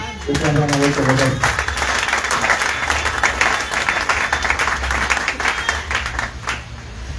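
Applause and clapping fill a church congregation loudly and steadily for about seven seconds, with cheering voices mixed into the sustained wash of claps and a brief talking voice near the start.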